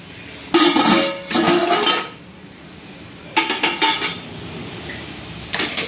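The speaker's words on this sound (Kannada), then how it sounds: "ಈಗ ಇದರೊಳಗಡೆ ನಮ್ಮ ಪಾತ್ರೆ ಇಡೋಣಂತ" Metal cookware clanks and scrapes in several short bursts as one pot is set and shifted inside another, preheated pan for baking an Oreo biscuit cake, with quiet pauses between.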